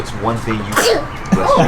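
A single sharp sneeze bursts out near the close mic, set between two short spoken phrases from someone nearby.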